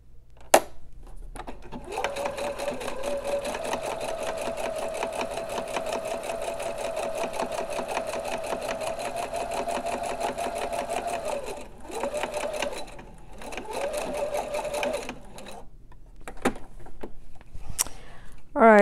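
A sewing machine stitches a fabric face mask in a steady, close, buzzing run. The stitching pauses briefly a few times before starting again.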